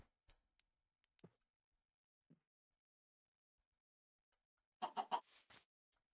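Faint isolated ticks and taps give way to a cluster of four or five quick clucks from a chicken in a video game, close and fairly loud, with no talking.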